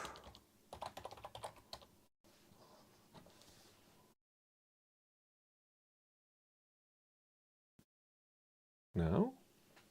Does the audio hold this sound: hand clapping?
no